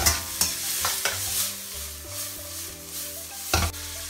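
Chinese sausage stir-fried with green peas and corn in a wok, a steady close sizzle broken by several sharp scraping clatters of the spatula against the pan.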